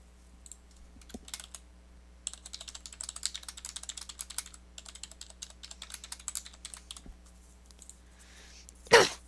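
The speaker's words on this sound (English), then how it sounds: "So now just type in your Microsoft account email or create account if you need to create one." Rapid irregular clicking of keys on a computer keyboard as an email address is entered, in bursts with short pauses over a low steady hum, ending with a louder brief rustle.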